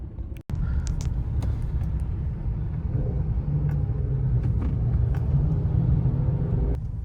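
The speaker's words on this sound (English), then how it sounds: "look at all the cars up here." Steady rumble of many cars gathered and idling at a big car cruise event, a dense continuous engine and traffic drone with a few brief thumps, no talking.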